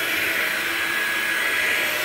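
A Hoover Linx stick vacuum cleaner running with a steady, loud, even whine and airy rush, no pauses or speech.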